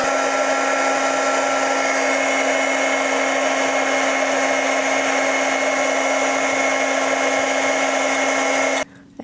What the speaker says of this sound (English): I may use my heat gun to heat them up to soften them to make them a little more pliable and sticky.